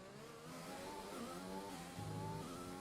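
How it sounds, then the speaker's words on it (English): Engine of a Mercedes Formula 1 car in the F1 2020 racing game shifts pitch steadily while braking into a hairpin, a loud continuous tone with a dip and a rise in revs and no talking. "Look at the way the Mercedes breaks into the hairpin"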